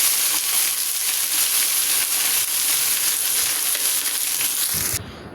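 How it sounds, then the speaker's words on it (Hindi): Okra sizzles loudly in hot oil in a pan during a light sauté, a dense, steady frying hiss that runs without a break and then cuts off abruptly near the end. "मैं अब इसको फ्राई करूँगी, बस हल्का सा सौटे करूँगी"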